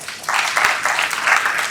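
Audience applause at the IEEE KYSP conference, a brief burst of dense clapping filling the hall with no talk over it.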